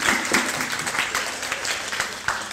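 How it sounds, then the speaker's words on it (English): Audience applause at a teaching session, a dense, steady patter of many hands clapping close by, with a few louder bursts, lasting the whole stretch without speech. "Give a round of applause."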